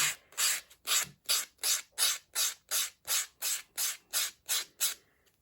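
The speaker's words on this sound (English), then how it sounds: "I tend to go over the whole of the nails with a buffing block anyway." A buffing block is rubbed over fingernails in a dozen even, rhythmic rasping strokes, each a short, close, scratchy burst with brief gaps between, alone and fairly quiet.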